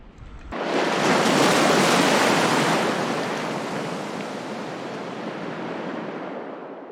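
Ocean surf on Carrickalinga Beach in South Australia builds into a loud broadband roar of a breaking wave, then eases into a sustained washing hiss, heard close with some wind and no voices.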